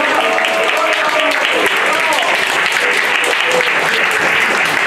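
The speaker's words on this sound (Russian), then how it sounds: "А бурные аплодисменты," Stormy applause from a concert audience at a show at the Green Pyramid in Sevastopol, loud and dense, a continuous wash of clapping with a voice faintly audible underneath.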